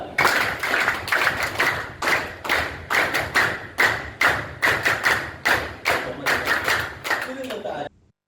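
Audience clapping in unison on a counted cue at a council meeting, a steady run of about fourteen loud, sharp claps in rhythm before stopping abruptly.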